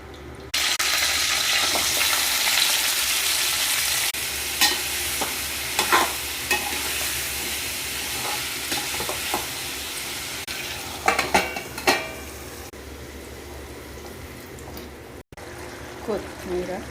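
Stuffed brinjal curry fries in a pan after masala oil and curry leaves are added, with a steady loud sizzle and intermittent spoon-stirring scrapes and clinks, while a person talks over it.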